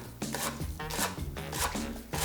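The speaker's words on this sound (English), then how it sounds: "And I just do a quick chop." A kitchen knife chops fresh cilantro on a cutting board in quick repeated taps, close and crisp, with an irregular fast rhythm and no talking.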